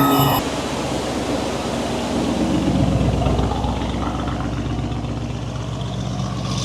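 An 881bhp Lamborghini Urus on a dyno, its engine a loud steady roar that holds constant throughout without letup and with no voices over it.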